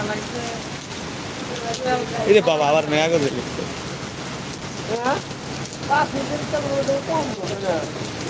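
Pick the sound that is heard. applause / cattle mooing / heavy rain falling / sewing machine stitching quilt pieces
heavy rain falling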